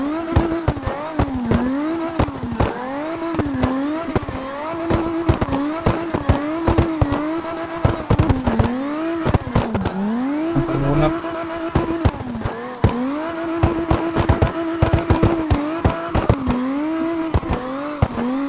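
A Toyota Corolla ZR drifting: a steady engine drone with rising and falling pitch through continuous slides, with tire squeal and clattering noise throughout, loud and without talk.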